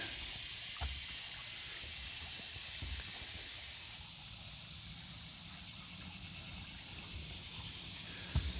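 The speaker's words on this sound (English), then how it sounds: "Here's a nice little creek. Ooh, it's flowing today." A small creek flows steadily on a forest hiking trail in Hawn State Park, a soft continuous watery hiss with no talking, faint and even throughout, with a couple of brief knocks.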